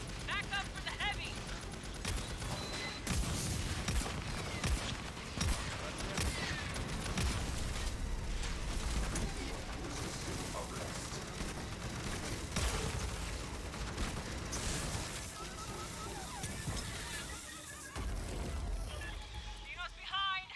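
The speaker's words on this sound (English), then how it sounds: "Drawn by the gunfire!" Video game gunfire crackles in rapid bursts and single shots amid a busy battle soundscape, with voices shouting over it.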